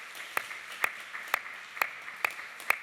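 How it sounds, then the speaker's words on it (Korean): Sparse, evenly spaced single claps ring out in a church during a Sunday baptism service, about six sharp hand claps over a quiet background. "우리 성도님들께서는 큰 박수로 축하해 주시고 격려해 주시기 바랍니다"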